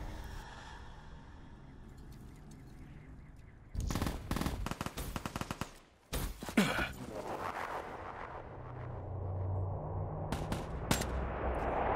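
Rapid bursts of automatic gunfire from the Black Ops video game, loud and close, come in the middle stretch, with quieter game ambience before and after and a few faint later shots.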